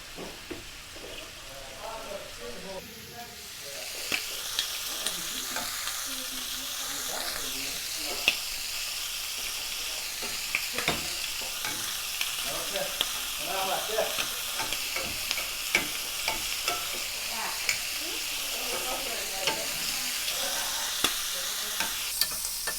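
Shrimp spring rolls fry in plenty of butter in a pan, giving a dense, steady close sizzle with occasional crackles and spatula knocks throughout.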